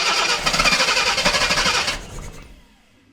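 A Jaguar XJC engine is cranked over during a rebuild, with a loud, steady churning rumble for about two seconds that then cuts off and fades to near silence.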